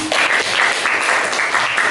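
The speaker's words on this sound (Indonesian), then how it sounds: "Kita beri tepuk tangan untuk kelompok 3." Audience applause for a presenting group at a teacher-training performance exam, a dense, steady wash of many hands clapping at close range with no break for the full two seconds.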